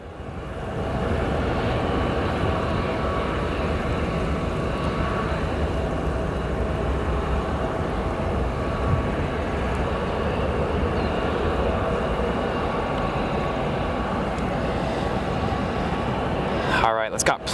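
Jet airliners arriving at O'Hare Airport at sunset make a steady, loud, broadband roar that holds without a break, much like a nearby aircraft passing low overhead.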